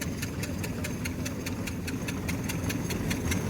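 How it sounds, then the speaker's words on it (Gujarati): A tractor engine chugs steadily at close range as the tractor moves forward with a loaded trolley on a farm, giving a constant rumbling drone with a regular mechanical ticking rhythm and no voices. "ટ્રેક્ટર થઈ ગયું આપણું આગળ હાલતું"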